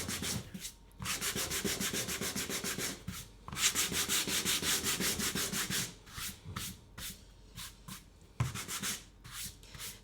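Rapid back-and-forth sanding strokes on a painted stenciled door hanger, close and rhythmic, with brief pauses between bursts of rubbing.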